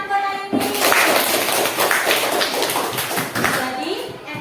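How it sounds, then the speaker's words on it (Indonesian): Children in a classroom applaud, a burst of dense, lively clapping that starts abruptly and continues for several seconds, with young voices mixed in. "beri tepuk tangan buat Ayuni"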